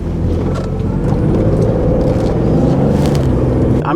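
A 2016 Ford Transit XLT350 van fitted with SuperSprings takes a corner, giving a steady, loud road and engine rumble from inside the cabin with no break throughout.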